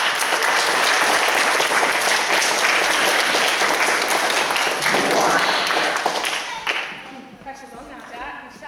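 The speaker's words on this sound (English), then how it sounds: "Give a round of applause." A live gaming show crowd applauds loudly and steadily for several seconds, then the clapping thins and fades as cheers and talk take over near the end.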